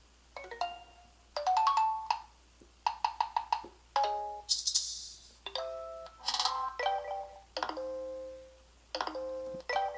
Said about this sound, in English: notification sounds.